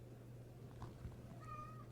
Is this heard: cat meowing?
yes